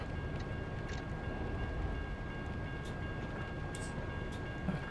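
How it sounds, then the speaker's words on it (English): Train rumbling past near a Mack Superliner log-hauling truck on a rainy night in American Truck Simulator, a steady dense roar with faint clattering, continuous for the whole stretch. "Oh god, I think that train's coming."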